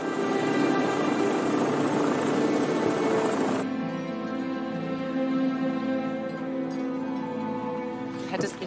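A helicopter's steady rotor drone fills the scene, loud and continuous, with voices faintly beneath the engine noise.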